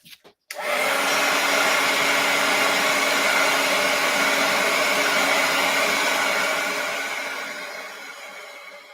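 A hair dryer dries a freshly painted art journal page, starting with a click and then blowing a steady, loud, close whoosh that slowly fades near the end.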